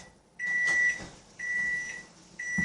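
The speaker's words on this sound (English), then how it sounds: "Okay, so the timer is going to go off" A kitchen oven timer beeps three times in a steady rhythm, each tone sustained for about half a second, heard nearby over a faint room background.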